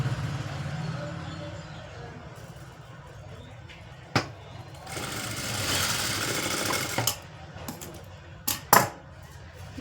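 A sewing machine stitches piping onto blouse fabric, running in a steady mechanical whir with louder bursts and a few sharp clicks and knocks between runs, close and clear with no talking.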